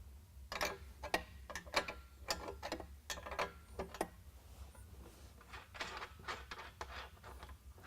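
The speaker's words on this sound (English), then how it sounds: "Here we need a 3/4 inch wrench. We're going to remove the outrigger." A 3/4 inch wrench ratchets off outrigger nuts at a bulkhead, producing close bursts of rapid metallic clicking in several short runs with brief pauses, no talking.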